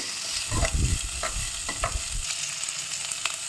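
Onions with tomato, salt and curry leaves sautéing in a pan while being stirred, giving a steady close sizzle with several scraping stirs and utensil knocks, and no talking.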